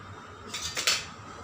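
A metal mixer grinder jar, set out for making sweet corn soup, clatters briefly in a few quick clinks against a kitchen surface, close and moderately loud.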